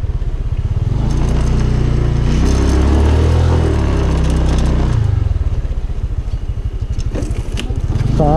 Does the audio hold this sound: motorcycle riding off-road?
yes